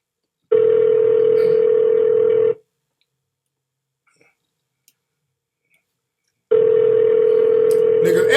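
Telephone ring tone on a Google Voice call, two long steady buzzing bursts separated by a few seconds of silence, loud and close with no talking over them.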